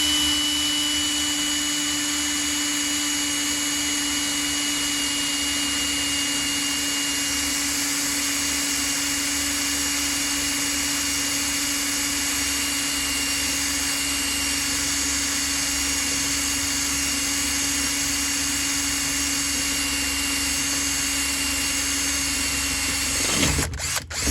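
A power drill boring a hole through a steel bolt held in a G-clamp, a loud sustained whine with a steady tone running unbroken at close range, then cutting off abruptly at the end.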